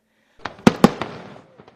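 New Year's Eve fireworks in Phoenix go off in a short burst of a few sharp loud bangs close together, trailing into fainter distant pops, with no talk.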